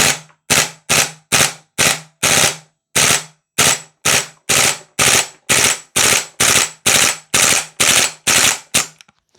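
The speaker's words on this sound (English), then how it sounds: "As long as you keep it to short bursts, this thing will be absolutely fine." A Vorsk VMP-2 gas blowback airsoft rifle fires a long series of short, sharp bursts, each a rapid mechanical clatter separated by brief pauses, loud and close with no talking.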